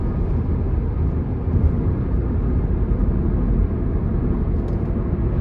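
A 2006 Nissan Sentra 1.8S on a test drive, accelerating onto an interstate, heard from inside as a continuous low engine and road rumble that holds steady and close throughout.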